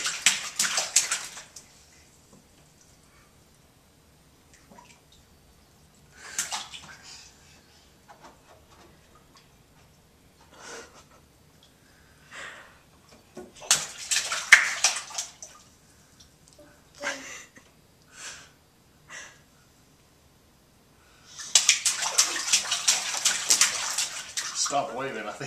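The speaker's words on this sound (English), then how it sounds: "I think he means that splash." A seven-and-a-half-month-old baby splashes water in a bathtub in separate loud, sloshing bursts with quiet pauses between them, and adults talk softly during the gaps.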